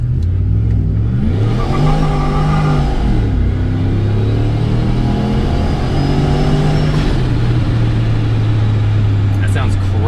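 A car engine with a ProCharger supercharger fitted with a Carbinite pulley, pulling under full boost around 7-8 pounds: a loud, continuous interior drone rising and falling through gear changes, with supercharger whine layered over the rumble.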